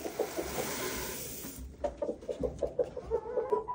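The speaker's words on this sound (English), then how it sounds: "This is the Rhode Island hen" A Rhode Island hen on a farm clucks in a quick run of short, close notes over steady background noise, with no talking.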